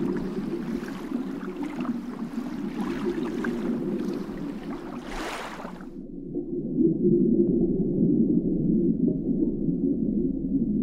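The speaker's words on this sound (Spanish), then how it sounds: "Este que vemos es el delfín común" Common dolphins vocalize underwater with dense clicks and squeals over a constant low watery rumble, the higher chatter cutting off partway through.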